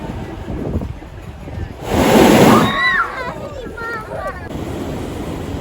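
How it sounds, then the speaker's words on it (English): Sea waves surging through coastal blowholes on the San Sebastián coast in Spain, a loud whooshing rush of spray over steady wind and surf, with a voice talking over it. "listen for the sound of dragon's breath emanating from the blowholes"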